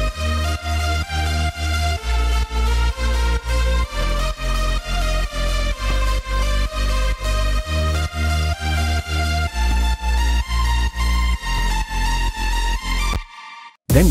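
A progressive house track built in FL Studio pounds along with a steady four-on-the-floor kick under a layered sub bass and bright synth chords, loud and continuous before cutting out abruptly near the end.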